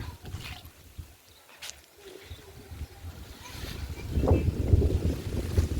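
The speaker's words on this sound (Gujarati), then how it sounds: "એકદમ ઠંડો પવન આવે" Cold wind blows outdoors under dark rain clouds before a downpour, rumbling and buffeting against the microphone in uneven gusts that swell louder toward the end, with no talking.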